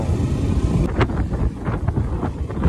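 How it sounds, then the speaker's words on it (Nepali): Strong wind buffets the microphone in a continuous heavy rumble on a motorbike ride in Upper Mustang, with gusts surging and a few brief hissy bursts on top. "हावाले बाइकै पल्टाउँछ क्या हो"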